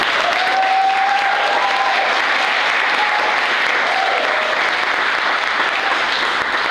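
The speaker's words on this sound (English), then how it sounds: "a big round of applause" Sustained applause from a sizable audience, steady and dense throughout, with no one speaking over it.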